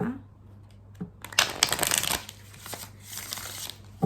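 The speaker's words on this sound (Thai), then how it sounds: "ขออนุญาตสับไพ่สักครู่นะคะ" Tarot cards are shuffled by hand in quick riffling bursts, crisp papery flutters and soft taps close by, over a faint low hum.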